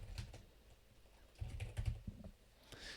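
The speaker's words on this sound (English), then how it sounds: "Let's type in demo." Computer keyboard keys tapped in short irregular bursts during a supply chain software demo, close and clear with brief pauses between clusters of keystrokes.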